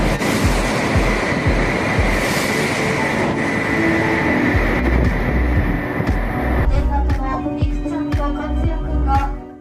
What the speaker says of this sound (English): Shinkansen trains tear through Kokura Station at